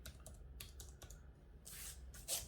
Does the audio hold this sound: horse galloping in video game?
no